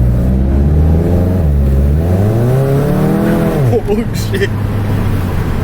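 A tuned DSG car with an aggressive tune accelerates hard, its engine note climbing in loud rising sweeps heard from inside the cabin before a brief break as it shifts, while an occupant exclaims over it.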